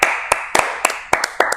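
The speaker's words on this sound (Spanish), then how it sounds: "Un aplauso." Sparse hand claps from a small audience, about a dozen sharp separate claps in an uneven rhythm over a second and a half, close and fairly crisp.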